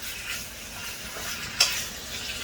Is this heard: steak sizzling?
yes